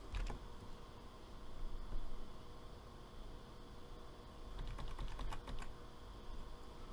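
Code being typed on a computer keyboard, quiet steady clacking of keys with a couple of faster bursts, against faint background hiss.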